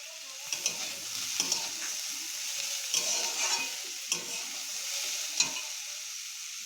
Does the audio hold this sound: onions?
yes